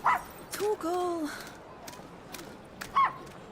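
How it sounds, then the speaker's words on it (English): Torgal, the dog in Final Fantasy XVI, gives a few short yips and bow-wow barks close up, with game voices talking around them. "That was an adorable dog"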